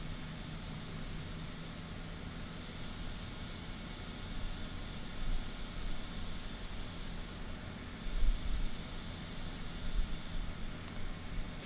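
Twin-engine plane in Microsoft Flight Simulator climbing past 10,000 feet, a steady low engine drone with a broad airy roar that swells slightly now and then, no voices.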